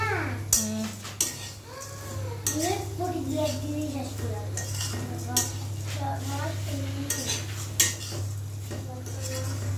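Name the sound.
cooking and stirring semai (vermicelli) in a pot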